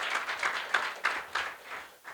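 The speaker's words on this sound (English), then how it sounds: "Please, can we give Doctor a round of applause?" An audience at a luncheon honouring African achievers applauds, giving a few seconds of scattered, moderately distant clapping with sharper individual claps standing out before it fades.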